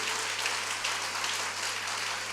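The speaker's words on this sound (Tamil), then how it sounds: "Clap with faith." A church congregation applauding during a bilingual Tamil and English sermon, a dense, continuous wash of clapping with no separate claps standing out and no talk over it.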